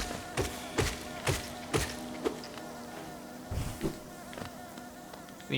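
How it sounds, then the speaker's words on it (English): Bees buzzing in the video game Hollow Knight, in a steady insect drone with a series of soft rhythmic taps like footsteps stepping through, moderately loud, with no talking. "There's a lot of bees here."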